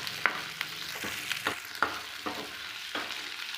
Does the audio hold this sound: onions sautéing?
yes